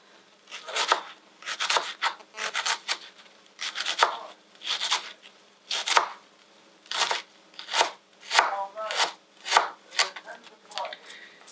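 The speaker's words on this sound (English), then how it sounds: "Any little bits, just chop up." Vegetables such as onion being finely chopped for spaghetti bolognaise, a steady run of sharp knife strikes on a cutting board, close and fairly loud, with no talking over them.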